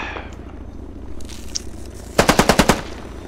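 A quick burst of about six loud automatic gunshots rings out from a bridge in the video game Squad, near and sharp, following a quieter stretch of ambient battlefield noise.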